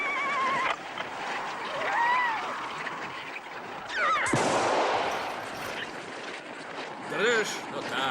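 Horse whinnying in a 1970s Czech-dubbed war film scene, several shrill neighs rising and falling over actors' dialogue, with a sharp burst midway and hoof and background noise.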